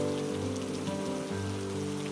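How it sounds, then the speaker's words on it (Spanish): Steady rain falling as a reading's backdrop, a continuous even patter at constant level with no voices over it. "Era un día de lluvia y no podían salir."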